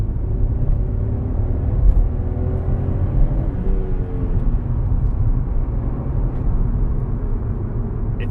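A 2017 Seat Ibiza engine rumbles steadily close by, with a slight rise and fall in pitch as the motor revs gently at low revs.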